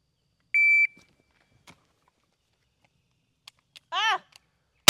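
A shot timer gives a single steady electronic start beep near the beginning, loud and close, followed by quiet pauses and a brief voice near the end.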